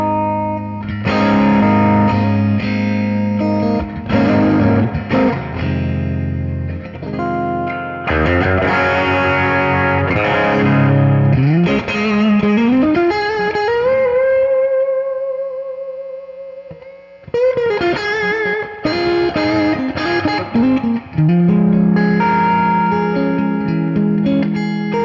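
An electric guitar runs through an overdrive pedal set as a clean boost. It plays chords and single notes with a light crunch for a long stretch, including a held bending note that sustains before the playing picks up again. The guitar is loud and steady, with no voices.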